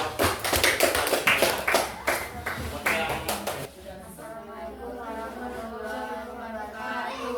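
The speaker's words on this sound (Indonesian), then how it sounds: "beri tepuk tangan untuk kelompok" A short burst of scattered clapping rises and quickly fades, followed by a quieter stretch of low room noise.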